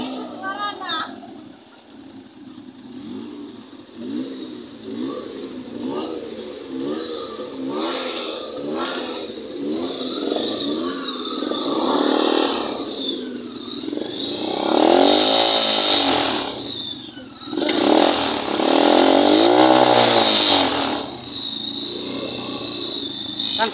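Motorcycle with a smoky exhaust, its engine revved repeatedly in rising and falling surges, loud and close, with people talking over it.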